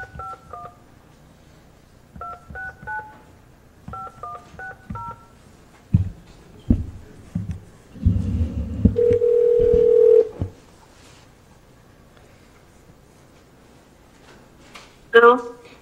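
An outgoing telephone call: three quick bursts of keypad tones, then a ringback or dial tone that holds for about two seconds, loud and close, with a voice speaking briefly between the tones.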